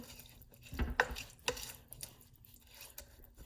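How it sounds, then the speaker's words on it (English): A spoon stirs thickening macaroni and cheese in milk inside a pot, with soft scraping and wet squishing strokes and a few clinks against the metal, fairly quiet and without talk. "Stirred it."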